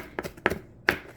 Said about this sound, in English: Cut up the parsley.